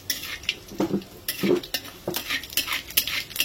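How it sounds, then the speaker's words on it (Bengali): Whole cumin and bay leaves tempering in hot oil, crackling and sizzling close by while a utensil repeatedly scrapes and clinks against the pan. "এবার এই ফোড়নটাকে ভালো করে ভাজবো।"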